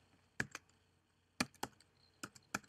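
Typing on a computer keyboard: a few sparse, crisp key clicks in small clusters, close and quiet, with short pauses between bursts and no talking.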